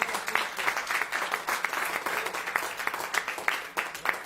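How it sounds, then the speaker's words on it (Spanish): A church congregation breaks into steady applause, a dense, continuous patter of many hands clapping at moderate distance without talk over it. "¿Cuántos tienen un aplauso para el Señor?"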